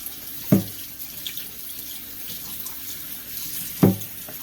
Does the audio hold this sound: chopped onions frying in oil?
no